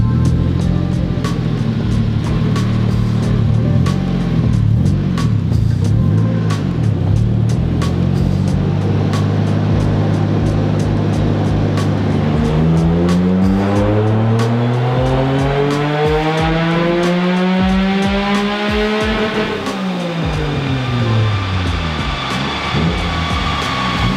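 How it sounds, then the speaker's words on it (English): A car on a home-built shop dyno makes a second gear pull: a loud, continuous engine roar climbing steadily in pitch over many seconds, then dropping as the throttle is released near the end. "A second gear pull."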